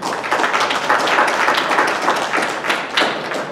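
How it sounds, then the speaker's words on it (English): An audience at a school board meeting applauds, steady dense clapping from many hands filling the room throughout. "let's give them a round of applause."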